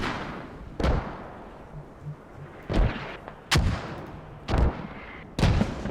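Mortar fire in the video game Squad: five heavy booming launches spaced about a second or more apart, each a sharp thump followed by a rumbling decay, fairly close with little else around.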